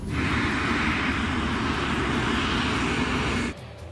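A LAPA Flight 3142 airliner's engines roar steadily and loudly as it begins its takeoff roll, a dense broadband drone with no talk, dropping away abruptly near the end.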